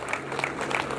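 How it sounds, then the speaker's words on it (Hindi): Audience applause at a new building inauguration ceremony, a brief burst of dense clapping from a crowd without talk over it. "तो इन सब के लिए ताली बजाओ"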